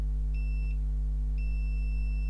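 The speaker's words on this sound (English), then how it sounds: "Listen for the beep" A multimeter set to continuity beeps twice, steady tones about a second apart, while probing an HP Envy 17 laptop board for a short.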